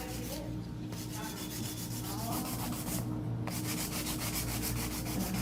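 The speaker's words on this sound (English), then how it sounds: "She started with hand filing and she just used her drill bit to seal the acrylic" An electric nail drill bit grinds and seals long coffin-shaped acrylic nails, making a steady, close, rough sanding whir with a faint rhythmic pulsing throughout and no talking.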